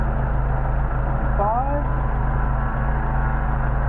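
A Mercedes 190SL engine idles at about 800 rpm after a carburetor adjustment, a steady low rumble throughout with a brief voice passing over it.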